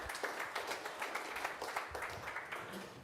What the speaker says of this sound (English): So please give a huge round of applause for Dave.